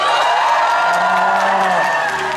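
Audience of children and relatives at a school performance clapping and cheering, a dense loud wash of applause with whoops and shouting voices, steady throughout.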